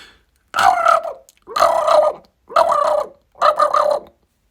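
A voice imitates a turkey gobble four times, each a loud, close, warbling burst about half a second long, separated by short silent gaps.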